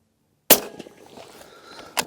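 A Weatherby 307 Range XP rifle fires a single sharp, loud shot outdoors, followed by a brief echo and a second fainter crack near the end.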